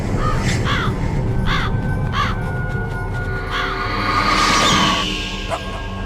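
Ravens cawing in the video game Metal Gear Solid, during the Vulcan Raven boss encounter: a run of harsh, repeated caws over a steady whooshing game ambience, loud and close, with no talk.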